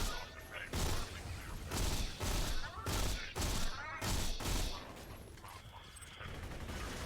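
Rapid bursts of gunfire from a weapon in the Borderlands 2 video game, loud repeated volleys with short gaps between them over about seven seconds, with the game's background sound underneath.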